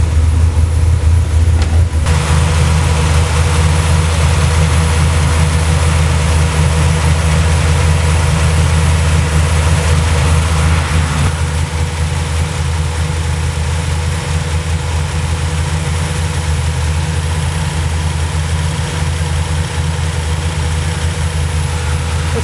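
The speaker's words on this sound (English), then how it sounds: "We got some heat in it now, so we can turn that down. Turn my fans on. Idle seems okay." A car engine idling after a rebuilt Holley 4150 Brawler carburetor was set up, a loud, steady low rumble held evenly for the whole stretch with no talk.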